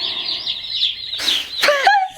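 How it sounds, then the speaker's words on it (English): Large batch of newly arrived baby chicks, about a hundred in a brooder, giving a close, busy stream of high overlapping peeps and tweets, ending in a few sharp, clear cheeps. "And that's a lot of birds."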